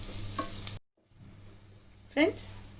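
Sizzling from a hot pan with spoon stirring sounds as mint and green chili paste browns, a brief pause in the middle, then a louder scrape near the end.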